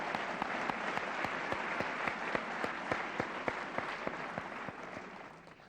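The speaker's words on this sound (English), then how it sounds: "Let's give them a separate round of applause." A corporate event audience gives a steady round of applause, continuous dense clapping with a few sharp accents that fades slightly at the end.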